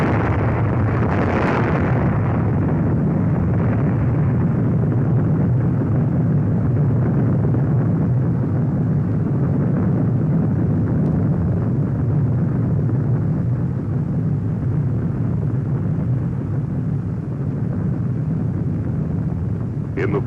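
A thermonuclear atom bomb blast rumbles as a loud, continuous low roar with a brief swell near the start and no pause throughout, dense and sustained with nothing else heard over it.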